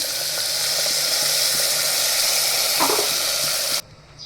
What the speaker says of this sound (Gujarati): ગાજર એડ કરી દીધા છે અને બધું સરસ રીતે હલાવીને મિક્સ કરી લીધું છે